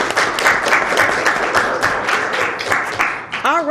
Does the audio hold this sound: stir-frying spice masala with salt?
no